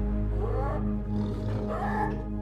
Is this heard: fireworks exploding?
no